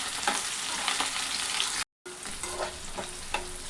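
Green chilies, curry leaves and ginger pieces crackling in hot oil for tamarind rice, a steady close sizzle with stirring scrapes, broken by a brief silent gap.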